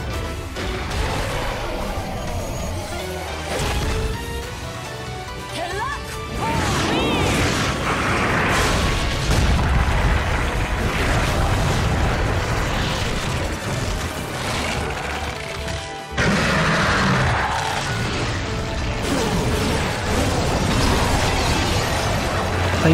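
Explosions, crashes and shattering impacts burst repeatedly in the action video game Bayonetta, dense layered blasts and debris over game music, with one sharp cut midway.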